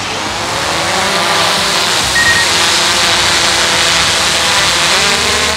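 A DJI Mavic drone lifting off from a hand, a loud, steady whirring buzz of its propellers that holds close and constant throughout, with no talking.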